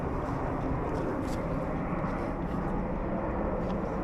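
A plane passes overhead during outdoor field surveying, a steady broad roar that fills the whole stretch without letup; no one speaks over it.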